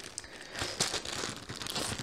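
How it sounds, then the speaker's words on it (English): Plastic packaging crinkles and rustles in irregular bursts while something is unwrapped during a cross-stitch session, close and moderately loud with no talking. "there's gonna be lots of crinkling, people."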